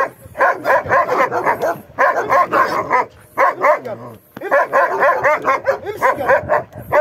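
A dog barks loudly and repeatedly at close range during training, in rapid clustered bursts with short pauses, some barks breaking into yips and whimpers.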